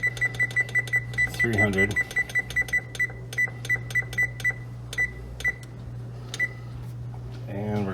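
Oven control panel beeps while the temperature and timer are set in a home kitchen, a steady series of short, evenly spaced electronic tones close by, with someone speaking briefly between them over a low appliance hum.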